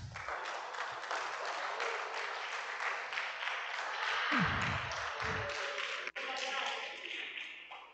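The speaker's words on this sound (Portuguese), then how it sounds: "vamos nos colocar de pé aplaudindo o Senhor Jesus" A church congregation stands and applauds Jesus during a service, with sustained, rhythmic clapping from many hands heard at a moderate distance. A few low thuds punctuate the middle of the applause.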